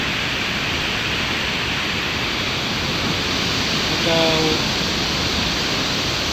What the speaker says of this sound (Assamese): শব্দটো চাওক না, শব্দ এই চাওক পানীৰ গ্ৰুপ চাওক